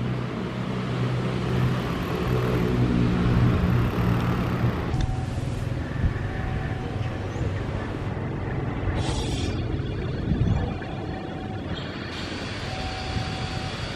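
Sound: train passing through Klaten station

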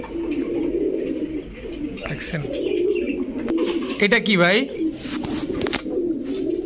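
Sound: pigeons cooing at a pigeon sale

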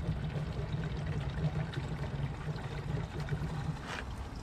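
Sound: gasoline poured into a Tecumseh lawn vacuum's gas tank

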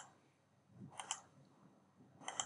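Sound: computer mouse click in Tekla Structures

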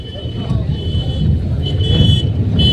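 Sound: car driving into a parking lot

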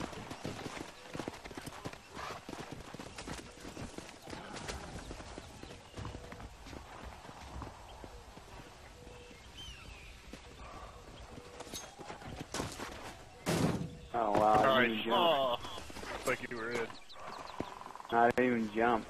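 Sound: horse hooves in Red Dead Redemption video game

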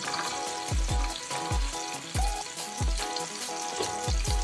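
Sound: garlic frying in hot mustard oil

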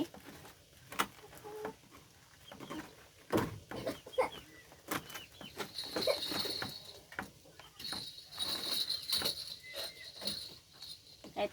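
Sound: chickens clucking

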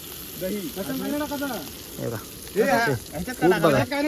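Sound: pomfret fish frying on a tava

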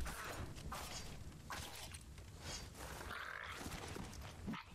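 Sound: frog enemy croaking in video game Tails of Iron

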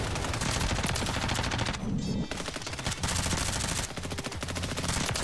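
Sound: gunfire from a video game

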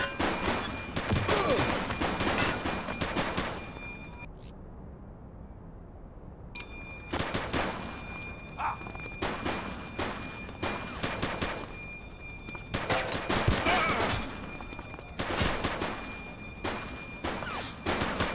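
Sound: gunfire in The Precinct video game

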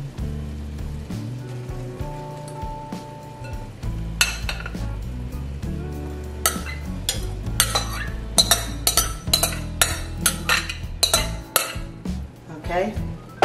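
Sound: rice being added back into a cooking pot

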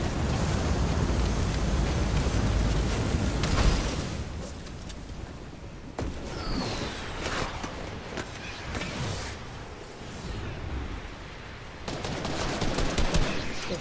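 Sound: enemy gunfire shooting at player in a video game

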